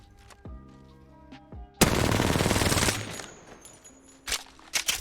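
R-99 submachine gun fire in the video game Apex Legends: a loud, dense, rapid burst of automatic shots lasting about a second, with a few scattered single shots and game sounds before and after.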